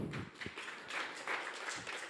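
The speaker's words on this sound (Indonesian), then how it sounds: "Tepuk tangan dulu." An audience at an evening business seminar on Cavendish banana farming bursts into applause, a dense, steady patter of many hands that keeps going for a couple of seconds.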